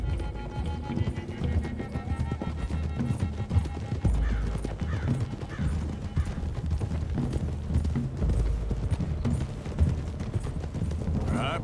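Horses trotting with steady clip-clop hoofbeats in Red Dead Redemption 2, with an occasional whinny over a dense wash of game music and ambience.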